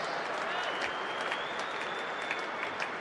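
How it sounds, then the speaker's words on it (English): Cricket crowd applauding a half century during a Test match at Lord's, steady sustained clapping from a large crowd with scattered louder claps throughout, heard alone. "the crowd appreciates good batting, so do his teammates."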